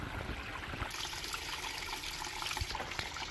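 Water from a small iron-rich natural spring trickles and splashes steadily at close range, a continuous faint babble with no talk.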